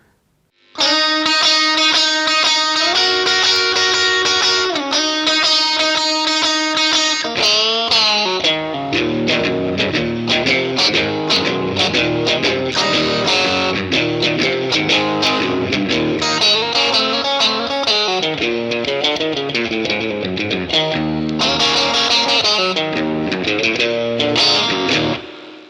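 Electric guitar played through a Fender Blues Junior amp with no pedals, dialed for a warm Stevie Ray Vaughan blues tone with reverb: sustained chords, then busy bluesy single-note runs and bends, loud and continuous throughout.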